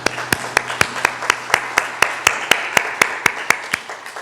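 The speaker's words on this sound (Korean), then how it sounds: "하나님께 영광 박수 올려드리겠습니다." Church congregation clapping together during Sunday worship: a slow, steady beat of loud, sharp claps in unison, about four per second, with a low background hum.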